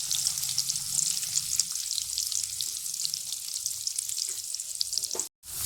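Small chopped onions sizzle and fry in hot oil in a pan for a quail gravy, a continuous bright crackling hiss with occasional stirring scrapes, close up and without talk, cut by a brief gap near the end.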